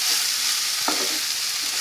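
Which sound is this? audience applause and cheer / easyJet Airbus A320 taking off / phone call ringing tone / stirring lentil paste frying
stirring lentil paste frying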